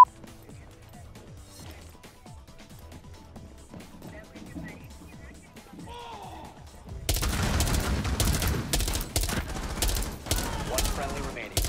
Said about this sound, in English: Oh my god, I hit him with a shotgun